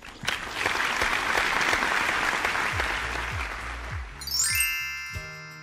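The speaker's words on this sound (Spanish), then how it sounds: "Todos merecemos un fuerte aplauso." Loud applause for students on a Spanish-language school broadcast, dense clapping that fades after about four seconds into a bright chime and jingle flourish that rings out to the end.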